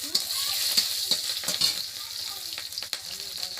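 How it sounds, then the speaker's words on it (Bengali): Steady oil sizzle in a pan as green chillies fry, with scattered stirring scrapes and clicks, no voices, continuous frying noise throughout. "এবার কড়াইতে আমি কাঁচা লঙ্কা দিয়ে দিচ্ছি"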